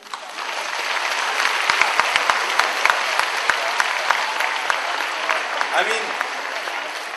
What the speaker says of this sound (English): I want you guys to have a big round of applause for all Podarites sitting here.